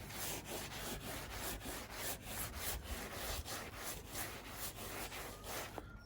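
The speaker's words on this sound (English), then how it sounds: "So that's how I use this clay bar thing." A clay bar rubbing across the 21-year-old paint of a VW T4 van, a steady gritty swish repeating in quick regular strokes close by, with no talking.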